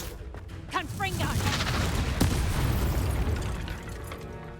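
The Confringo blasting spell erupts in Hogwarts Legacy with a close, heavy boom, a short whooshing lead-in, then rumbling, shattering debris that slowly fades; a voice calls out briefly over the blast.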